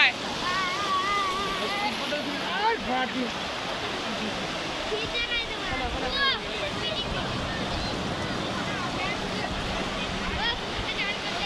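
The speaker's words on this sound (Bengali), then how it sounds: "বাবা ভিজিয়ে দেবে, বড় ঢেউটা পালিয়ে" Sea waves roll and break on the beach at New Digha in a loud, continuous wash of surf, with people talking over the water.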